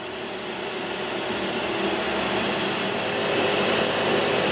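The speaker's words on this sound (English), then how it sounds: "You can hear my air compressor in the background." An air compressor runs steadily in the background of a laser engraving workspace, a constant broadband hum that holds even and slightly swells toward the end, with no talking.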